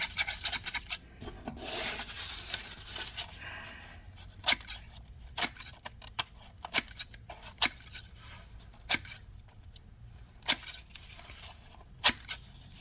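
Vintage grass shears snip repeatedly in short, crisp metallic cuts, about a dozen spaced irregularly, close and fairly quiet, with a longer rasping rub early on and no talking.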